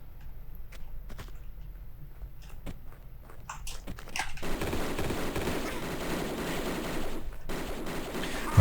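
Gunfire in Tomb Raider 2: Golden Mask Remastered as Lara shoots at an enemy, scattered sharp shots at first, then a dense, continuous barrage of rapid fire over game noise, with no talking.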